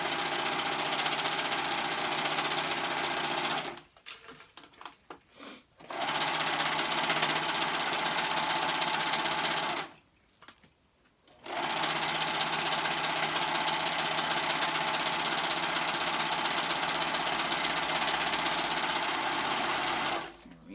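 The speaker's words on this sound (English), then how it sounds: "Alright, so I'm sewing up the sides." A sewing machine runs in long, steady bursts while stitching the side seams of an off-shoulder garment, with two brief pauses between runs; the needle or blade may be dull. The motor hum is loud and near, with no talk.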